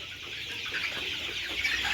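A flock of broiler chickens about a month old, kept in a farm shed, cluck and chatter in a continuous close murmur with no talking.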